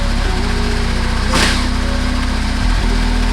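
A Yamaha Vmax1200 motorcycle engine idles during a coolant change with the radiator air being bled, giving a steady, close, rhythmic low-pitched throb, with a brief hissing swell in the middle and no talking.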